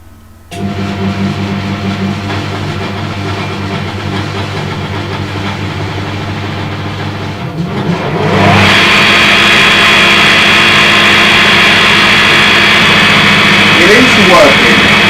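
A generator with a belt-driven alternator starts up and runs with a steady close hum, then rises into a louder, brighter whirring drone about halfway through, with a person talking over it.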